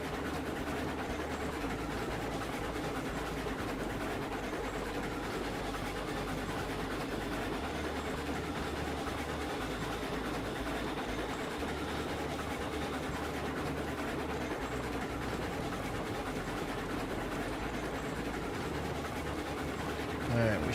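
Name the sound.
steam locomotive train running in video game Railroads Online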